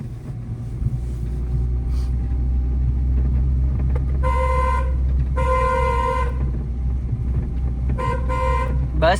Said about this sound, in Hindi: हॉर्न बहुत ज्यादा नहीं देना, ये गाली होती है